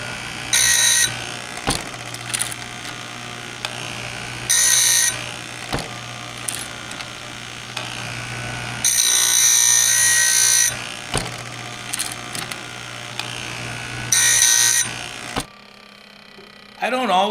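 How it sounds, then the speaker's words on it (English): Chainsaw chain sharpened on an Oregon bench sharpener: four or five loud, short bursts of high grinding whine, each a second or two long, separated by a humming motor, ending with a quieter stretch. "I don't always sharpen with the Oregon sharpener."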